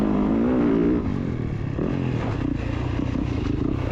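A supercross dirt bike lapping a rough practice track, its engine revving loudly and steadily up close, with rattling clatter from the chassis over bumps and no talking.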